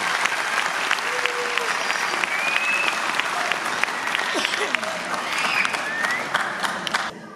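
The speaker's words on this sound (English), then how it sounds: "How about another round of applause for all of our sections?" Audience at a school sixth-grade band concert gives a loud, sustained round of applause, dense clapping filling the room for several seconds before tapering off at the end.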